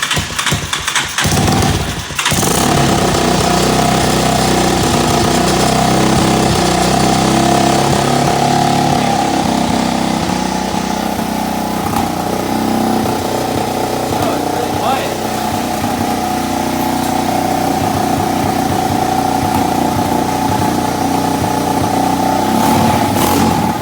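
Steady whining electric motor of a Power Wheels Ford F200 ride-on toy truck running continuously, fairly loud and close, with people talking over it throughout.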